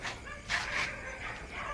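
A dog gives a couple of short, high yelping barks and whimpers close by, brief and sharp over a muffled background.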